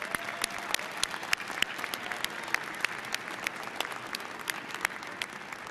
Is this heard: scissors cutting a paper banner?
no